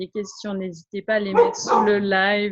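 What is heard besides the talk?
dog barking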